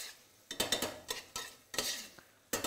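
Onions cooking in a very hot pan for lager and lime mussels, heard as short bursts of sizzling and spoon-stirring scrapes against the pan, close up, separated by brief quieter gaps.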